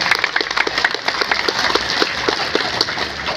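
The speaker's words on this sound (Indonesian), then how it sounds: "Tepuk tangan buat santri." An Indonesian Santri Day audience in Mersam, Batang Hari, applauds with a fast, rhythmic patter of hand claps at fairly even intervals, moderately loud and continuous throughout.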